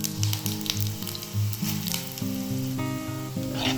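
Coriander seeds roasting in a pan for curry-leaf spice powder, with a steady close sizzle and crackle and soft stirring scrapes, no talking.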